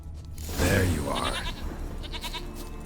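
A goat bleats in The Witcher 3 video game, a single wavering mid-pitched cry over steady game ambience, with faint chiming and tapping afterward.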